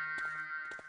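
A base alarm rings in the World War II shooter Medal of Honor: Allied Assault. It is a steady, sustained electronic buzzing tone, fairly faint, with a few brief thuds of gunfire or impacts over it.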